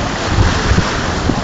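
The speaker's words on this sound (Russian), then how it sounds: "Сейчас волна идет" Sea waves break near breakwaters on a cold Kaliningrad shore, a loud low rumbling wash buffeted by heavy wind noise on the microphone, with soft thuds of surf rolling in.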